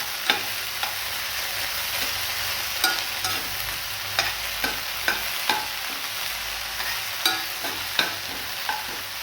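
Radish pods (mogri) frying in oil for a Gujarati vegetable dish, a soft steady sizzle broken by regular sharp spoon taps and scrapes against the pan, with no voices.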